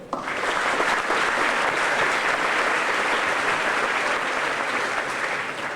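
An audience at an 8th grade graduation ceremony breaks into loud, sustained applause, dense clapping that starts abruptly and holds steady with no talk over it.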